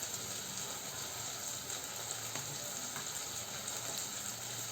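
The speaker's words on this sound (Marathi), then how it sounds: "आता हे छान परतलं गेलं आहे तेलामध्ये." Spices, hing and crushed green chilli paste fry in hot oil for a Maharashtrian moong dal zunka, giving a steady, even sizzle close by with no voices.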